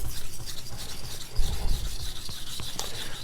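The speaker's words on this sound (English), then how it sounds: "I'm going to finish with some edge leading strokes on the 1000 to remove burr before we go to the strop." A kitchen knife is drawn in edge-leading strokes across a 1000-grit sharpening stone to remove the burr, a continuous close gritty rasping with faint rhythmic pulses from each pass.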